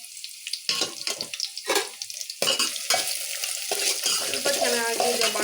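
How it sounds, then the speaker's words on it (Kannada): Onions sizzle in hot oil in a pan for pulao, stirred in irregular scraping bursts with a steady frying hiss building beneath, close and fairly loud with no talk. "ಈರುಳ್ಳಿ ಹಾಕ್ತಾ ಇದ್ದೀನಿ. ಚೆನ್ನಾಗಿ ಸ್ವಲ್ಪ ಬಾಡಲಿ."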